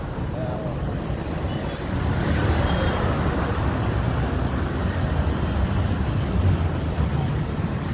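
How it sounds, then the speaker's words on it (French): Dense street traffic of motorcycles and cars roars continuously at close range, a steady wash of engine rumble from passing vehicles with no clear breaks. "Tellement de motos et de voitures que,"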